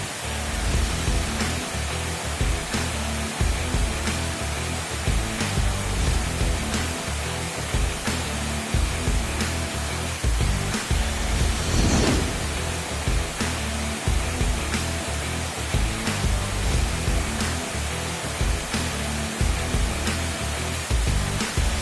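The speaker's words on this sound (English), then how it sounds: "the mind-blowing waterfall" A steady, dense roar of rushing water fills the scene without pause, like a waterfall heard from nearby, in dense forest at Jawhar, Maharashtra.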